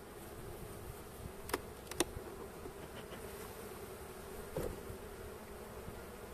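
Honeybees hum steadily in an opened hive in winter on the Trabzon coast, a soft continuous buzz with a few brief louder passes of individual bees close by.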